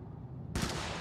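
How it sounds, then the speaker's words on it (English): A single sharp shot from the AR-19 Liberator assault rifle in the video game Helldivers, cracking loudly and abruptly after a quiet moment and ringing out briefly. "This is the AR-19 Liberator. It is perfect for liberating foes from life."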